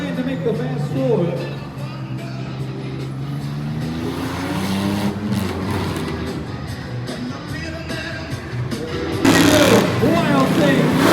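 Patrick Scott's race car Sticky Foot, running at the Outlaw Nationals drag event in Springfield, roars steadily with a loud engine drone and gear-shifting pitch sweeps, rising louder near the end, with an announcer talking over it.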